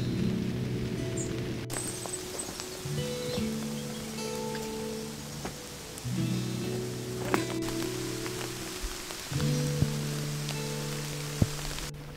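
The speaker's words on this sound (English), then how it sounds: "Rain comes again." Steady rain falls outdoors at a bottle dump, a soft continuous patter over a low droning hum, with faint occasional ticks and no one talking.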